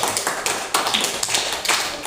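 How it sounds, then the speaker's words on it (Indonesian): A small classroom group claps for the first student team, a few sparse, uneven claps spaced out over a couple of seconds, close and fairly loud. "Kita beri tepuk tangan untuk kelompok 1 terlebih dahulu"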